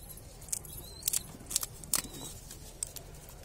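Scissors snip through a pigeon's wing feathers while the wing is clipped: about half a dozen sharp, close metallic cuts in an irregular rhythm over a quiet background.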